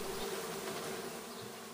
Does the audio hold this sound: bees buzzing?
yes